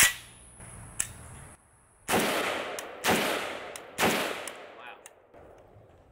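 A Zastava ZPAP M70 AK rifle fires a series of loud, sharp single shots outdoors, each followed by a decaying echo, with a few fainter clicks and handling sounds between them.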